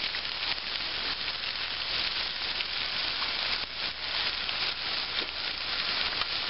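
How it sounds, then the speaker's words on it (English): Vegetables sautéing in a pot as the start of a pork stew, giving a steady, even sizzle and frying hiss throughout with no talking. "Now, we're going to saute these veggies."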